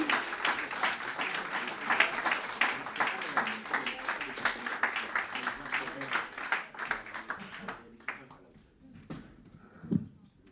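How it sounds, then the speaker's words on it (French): An audience at a poetry event applauds poet Angélique Duruisseau, scattered clapping with voices mixed in, fading after about eight seconds to near quiet with a last brief sound. "On l'applaudit encore une fois, mesdames et messieurs"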